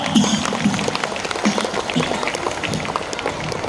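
Crowd of students and parents clapping at a school annual day event, a dense rumble of applause in a large gathering, fairly loud and steady.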